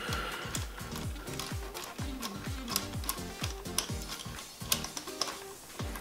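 Screws being undone with a ratcheting tool on the valve cover of a KTM 250/350 motorcycle engine: a steady run of quick, close mechanical clicks and ticks with a faint metallic hiss behind them.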